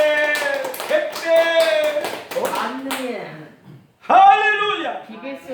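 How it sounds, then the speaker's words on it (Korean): A congregation at a Korean church Sunday worship service claps in bursts, with sharp, rhythmic hand claps mixed with loud speaking and chanting voices throughout. "박수 영광, 박수 영광."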